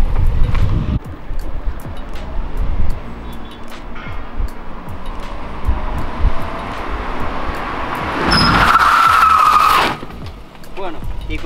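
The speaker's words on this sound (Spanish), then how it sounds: "Que Uri se va a driftear" A Japanese drift car revs and drifts, its engine roaring continuously and loudly, then a sustained tire squeal rises for about two seconds near the end before the noise drops away.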